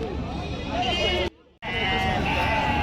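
Goats bleat intermittently beneath ongoing conversation at the Gudur livestock market, with a brief drop to near silence partway through.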